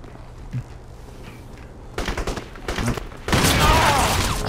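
Gunfire in the video game Crysis Wars on a steel mill map, a few sharp shots followed by bursts of rapid automatic fire and a dense loud volley at the end.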